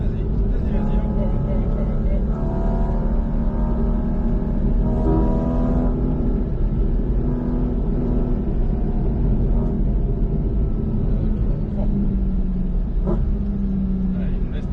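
Porsche Cayman 718 GT4 RS engine accelerating on the Mas du Clos race circuit: a loud, steady, close engine roar from inside the car, with rising rev tones under talk.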